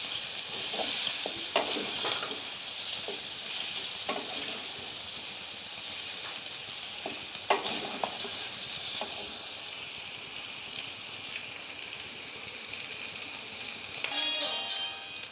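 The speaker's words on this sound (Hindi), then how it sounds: "2 से 3 मिनट के लिए सिर्फ इसको फ्राई करना है आपने।" Ingredients for a Peshawari mewa chana pulao frying steadily in a pan, a continuous close sizzle and hiss with occasional stirring scrapes and clinks throughout, no talking.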